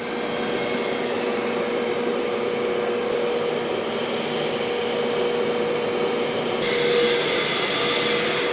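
A Rug Doctor Pro carpet cleaner runs continuously over carpet with a loud, steady suction roar and whine, swelling slightly louder near the end, with no voices.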